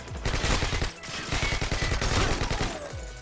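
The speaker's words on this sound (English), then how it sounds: "This is the AK-47 Silenced." Silenced AK-47 fire in Modern Warfare 2 on the Rundown map, with rapid bursts of suppressed shots pounding in steady rhythm across nearly the whole stretch, loud and close with a brief gap near the middle.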